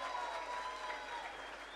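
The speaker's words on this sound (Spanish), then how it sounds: "Si me le pueden dar un fuerte aplauso a estos tremendos músicos que están arriba del escenario" Audience applause for the musicians on stage at a live Los Angeles Azules–style cumbia show at a restaurant, a steady wash of many hands clapping at moderate distance, even and sustained throughout with faint crowd murmur.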